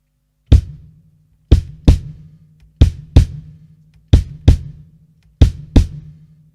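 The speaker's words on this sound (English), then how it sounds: "is a bass drum and hi-hat with the feet." Deep bass drum thumps in a repeating Latin groove pattern of single and paired hits, each with a short resonant boom, played alone.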